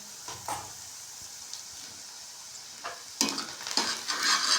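Tadka of tomato and garlic paste roasting in a pan for palak paneer, a soft steady sizzle with bursts of louder stirring and frying near the end, close by.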